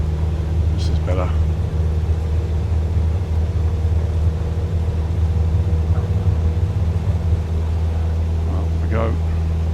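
An airliner's engines drone steadily as it rolls down the runway at Kyiv Boryspil International Airport, a loud, continuous low rumble with a few faint brief sounds on top.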